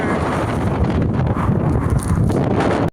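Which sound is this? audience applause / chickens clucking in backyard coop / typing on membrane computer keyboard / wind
wind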